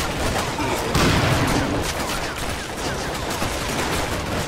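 Sustained gunfire in the first-person shooter NecroVisioN: Lost Company, dense overlapping rifle and machine-gun bursts with booming impacts, loud and continuous throughout without pause.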